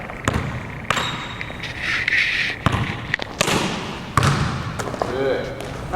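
A basketball bounces on a court during a finishing drill, with sharp, repeated thumps at an irregular pace over steady background noise and some talking.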